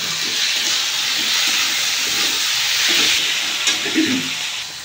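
Spices, a little salt, coriander powder and Kashmiri chili powder stirred in a hot pan for a Bengali fish recipe, giving a steady close sizzle and hiss throughout with soft scraping strokes near the end.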